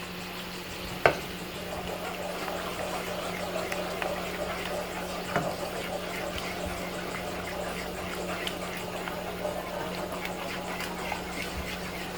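Heavy cream being stirred into a lemon linguine sauce in a pan, with a soft steady simmer, light scraping and occasional clinks over a constant low hum.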